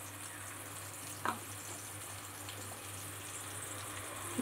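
Spices sizzle steadily in a hot pan just after coriander powder goes in, a quiet continuous frying hiss with one brief clink near the middle, for a cauliflower, potato and soya chunk curry.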